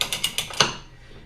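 A pipe threader ratcheting while cutting threads on gas pipe, five or six sharp metallic clicks in quick succession, close and loud, the last click strongest before the sound fades out.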